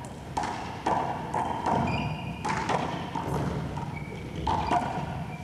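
In a 1987 one-wall big ball doubles handball match, the ball is struck and smacks the wall in a run of sharp, moderately loud thuds spaced irregularly over a steady crowd and room murmur.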